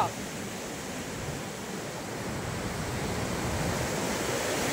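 Continuous broad roar of the flooded Musi River rushing toward Chadarghat Bridge in Hyderabad, steady and loud with a slight wind-like rumble and leaping waves.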